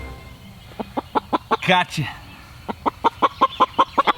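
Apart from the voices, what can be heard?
chickens clucking while being caught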